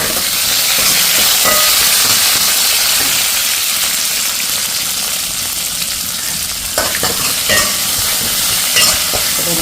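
Fennel and fenugreek seeds frying in hot oil, a loud, dense crackling sizzle that holds steady close up, with a few sharper pops and stirring scrapes toward the end.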